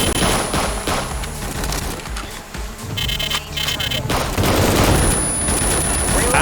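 Enemy gunfire rattles in the video game A.W.O.L., rapid bursts of shots over game music and effects, loud and busy throughout.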